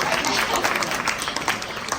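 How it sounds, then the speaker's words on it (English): An audience at a Woman of Distinction award ceremony applauds steadily, many hands clapping at once in a dense, fairly loud burst that fills the whole stretch. "applaud for yourselves"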